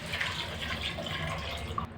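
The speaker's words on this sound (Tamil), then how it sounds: "தண்ணி சேர்த்துக்கிறேன்." Water pours into a cooking pot for green chilli sambar, a soft, steady splashing fill lasting about two seconds, close by.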